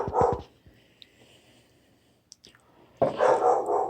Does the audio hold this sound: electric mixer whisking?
no